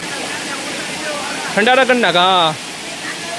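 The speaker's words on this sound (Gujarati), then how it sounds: "હાલ ઉપર જઈએ આપણે ઓલા ધોધમાં" Rushing water from a waterfall, a steady broadband roar at Jata Shankar, continues throughout while a person speaks briefly over it midway.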